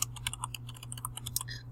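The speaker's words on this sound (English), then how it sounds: "I'm just typing it in the text box" Rapid, irregular clicking of keys on a computer keyboard as text is entered into a text box in embroidery software, steady close keystrokes over a low constant hum with no voices.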